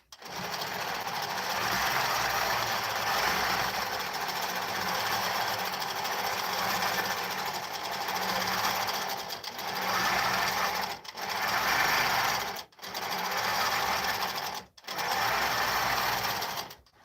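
Longarm quilting machine stitching at night, a loud steady mechanical whir running continuously, then stopping and restarting in short bursts near the end; no talking.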